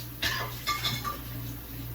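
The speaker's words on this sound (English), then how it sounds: "And then you want to wash off all of that soap" Dishes being rinsed of soap after sponge washing clink and clatter in a few close knocks of pots and cutlery against a faint steady background.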